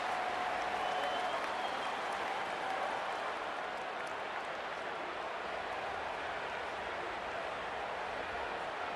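Home crowd cheering in an EA Sports College Football 27 game, East Carolina versus Alabama, a steady broad roar of applause and cheers filling the stadium throughout without a break.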